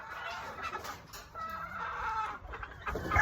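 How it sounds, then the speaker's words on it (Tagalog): A fighting cock on a farm clucks and calls in short bursts, fairly close and moderately loud, with light background noise and no talking. "mga winning bloodlines ng pansabong, fighting cocks"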